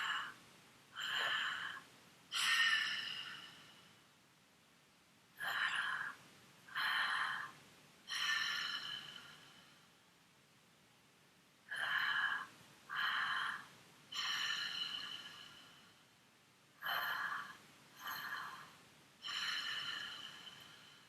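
Breathwork breathing, sharp two-part inhales through the nose followed by a longer, softer exhale, repeated in a steady cycle, close and alone with quiet pauses between rounds.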